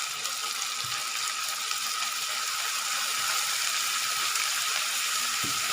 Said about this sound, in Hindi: बस हमने चिकन को भी इतना ही फ्राई करना है।